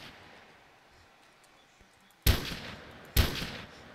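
Two sharp gunshots from a video game mod, fired point blank, each a loud, abrupt crack with a short decaying tail, spaced about a second apart after a quiet lull.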